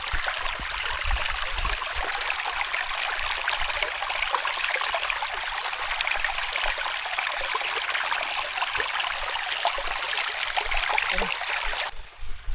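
Steady rushing of a flowing stream on a rural hiking trail in Japan, broad and continuous throughout, close by with no voices.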